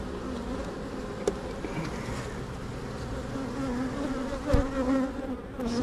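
Honey bees buzz steadily over an opened hive frame, a dense, continuous hum close by with no voices.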